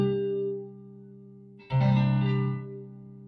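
An E-shape sus2 barre chord rings out on guitar, first sustaining as a held chord, then a fresh strum about midway that rings and decays, with no voices.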